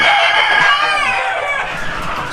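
Village chickens in a commercial coop, several birds clucking and a rooster's crow rising loud and close over continuous flock chatter, with no voices.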